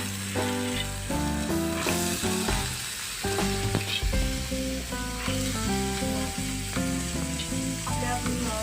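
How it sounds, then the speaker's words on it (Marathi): Black peas hit a hot pan and fry with a loud, steady sizzle and crackle, while background music plays underneath. "आपण आता काळे वाटाणे की नाही ते घालूया।"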